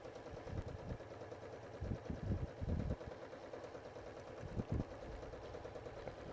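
A sewing machine stitches free motion quilting in a ribbon candy pattern, a faint low mechanical rattle running throughout with brief bursts of faster stitching, no voices.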